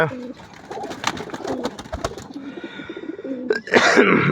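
A pigeon coos in low, repeated throaty notes close by, ending with a sudden loud flutter of wings.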